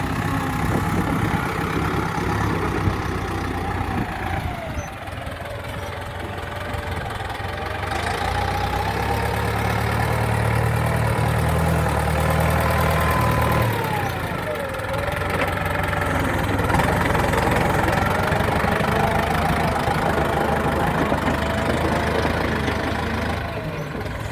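A Ford tractor engine idles steadily and fairly close, a continuous low rumble with slight shifts in pitch throughout.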